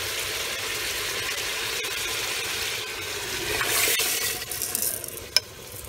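Water splashes and sloshes into a pot of dal makhani over a steady hiss, with a brief metallic clink near the end.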